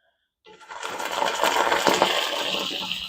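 Liquid is poured into a hot cast iron skillet, starting half a second in with a sudden hiss that swells into a sustained sizzle and crackle, holding near and fairly loud until the end.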